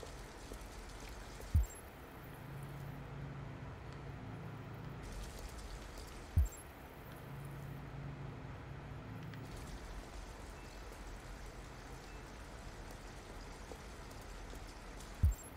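Steady rain falls in the video game Detroit: Become Human, a constant wash of patter with a low rumble beneath and a few sharp clicks breaking through at intervals.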